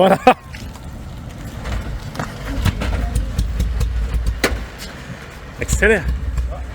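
A vintage 1956 English car drives and accelerates, its mid-pitched engine rumbling steadily close by with a brief rev surge near the end, while people talk over it and a short squeak or door-like clunk sounds at the start.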